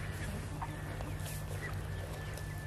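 Soft clucking from chickens in a farm yard, a few quiet calls over a steady low hum and background hiss.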